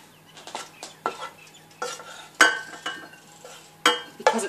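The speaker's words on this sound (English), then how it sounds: "I'm just going to take this cooked meat mixture and we're going to transfer it to a larger bowl" A spoon scrapes and clinks as cooked beef and chorizo meat mixture is transferred from the pan into a ceramic bowl, with repeated sharp taps and scraping strokes at close range.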